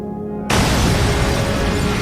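A bomb detonates aboard a Philippine Airlines Flight 434 airliner in flight, a sudden loud blast that cuts in after a quiet half-second and holds as a dense roaring rumble.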